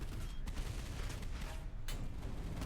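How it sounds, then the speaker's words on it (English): Anti-aircraft flak fire from sub-chasers in a naval combat game, a dense, fairly quiet barrage of overlapping bursts with a couple of sharper cracks, continuous across the whole stretch and sounding somewhat distant. "They're firing flak weapons at me."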